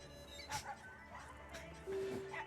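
Dog barks and whimpers from the dog ending of the Silent Hill 2 video game, a few short yelps with a clear tonal whine near the end, mixed with game audio and some voice.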